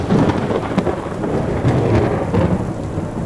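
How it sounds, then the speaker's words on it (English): Storm with heavy rain lashing against window glass and deep thunder rumbling throughout, a dense, continuous wash of sound with swelling low rolls, no voices. "The wind rattled the windows, and the rain lashed at the glass as if trying to force its way inside."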